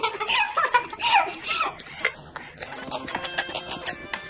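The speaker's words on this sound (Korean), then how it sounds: "이 친구의 배를 째기 위해서 제가 가위를 갖고 왔" Scissors snip into a dessert-style slime with a few crisp metallic cuts and squishy clicks, following a voice and laughter from near the microphone.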